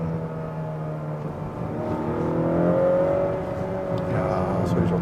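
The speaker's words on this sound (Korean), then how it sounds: "가속할 때 이런 소리도 내줍니다. 스포츠 모드에서 소리가 더 크게 나나?" A Honda Accord 2.0 turbo in sport mode accelerates with a steady, rising engine drone and whir heard from inside the cabin, building gradually in loudness over several seconds.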